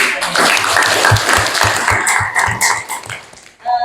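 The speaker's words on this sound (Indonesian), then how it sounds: "Tepuk tangan lagi." Students in a classroom clap together in a rhythmic, evenly paced burst with steady repeated beats over a busy background. The clapping thins out and stops near the end.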